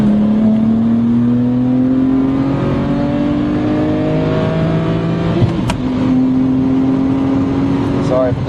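BMW 135i with a turbocharged N54 engine at 12 psi and standback and turboback exhaust revving loud and close, a steady rising drone that dips briefly past five seconds before climbing again, recorded from inside the moving car.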